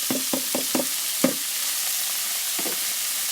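Chopped frozen tomatoes tumble into a pan of frying onions for a village-style potato and pea curry, a few soft wet plops and stirs over a steady low sizzle, with no talking.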